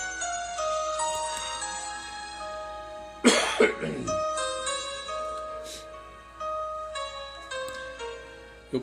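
A sudden burst of harsh coughing from a person with a cold, a couple of rough hacks in quick succession, over soft sustained tonal music.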